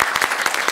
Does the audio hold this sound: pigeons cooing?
no